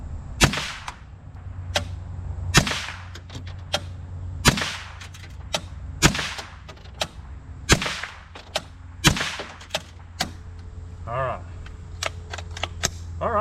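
An AR-7 survival rifle fires more than a dozen sharp, loud cracks at irregular intervals, some shots closely paired and others spaced a second or more apart, with faint handling noise between them.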